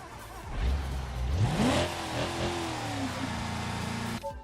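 A video-game car engine fitted with its regular exhaust revs up hard, the pitch sweeping upward, then settles into a sustained mid-range drone before cutting off abruptly.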